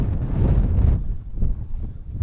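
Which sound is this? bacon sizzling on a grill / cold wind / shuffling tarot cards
cold wind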